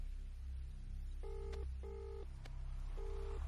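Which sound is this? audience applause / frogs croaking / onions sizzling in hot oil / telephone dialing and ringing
telephone dialing and ringing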